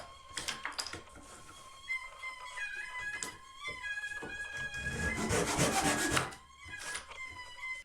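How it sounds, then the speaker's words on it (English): Molding stock for a Mayflower chest is cut by hand, giving a close, moderately loud run of rasping, rubbing sawing strokes with scattered knocks and brief high squeaks, no talking. "This molding stock is then cut by hand"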